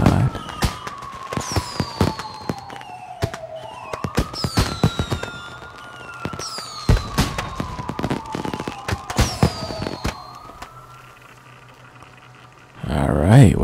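Fireworks in Watch Dogs 2 crackle and burst repeatedly with whistling rises and sharp pops, while a siren wails beneath them. Near the end the bursts give way to louder talk.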